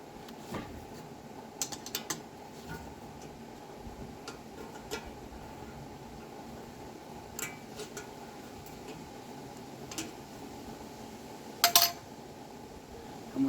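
Small metallic clicks, creaks and ratcheting taps sound sparsely as a fastener is worked loose on the petrol tank of a Ruston Hornsby PB engine, with a sharper clatter near the end over a quiet room hum.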